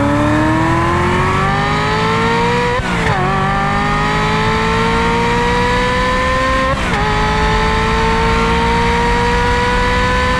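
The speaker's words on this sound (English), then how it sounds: "this is the type of sound you get." A loud, high-pitched Ferrari 355 flat-plane V8 exhaust wails as the car accelerates through the gears, with brief dips at two gear changes, close and continuous.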